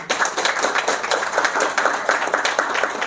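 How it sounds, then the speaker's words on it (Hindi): An audience in a spiritual class claps together on request, a dense, steady burst of hand claps close and fairly loud, with no talk over it. "एक बार ताली बजाओ अच्छी तरह।"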